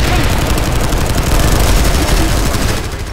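Dense, continuous gunfire in the video game Planetside 2 where sniper rifles are in use, a loud unbroken barrage of overlapping shots that fades a little at the end.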